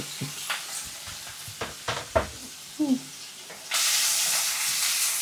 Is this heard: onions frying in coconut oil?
yes